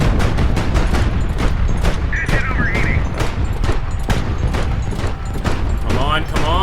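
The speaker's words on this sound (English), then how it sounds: "we're also going to have anti-air firing at us, as well as the enemy vehicles" Anti-air guns pound at a flying airship in Highfleet: a steady, rapid run of booming shots, loud and close, packed together with barely a gap, with small whistling tones rising in between.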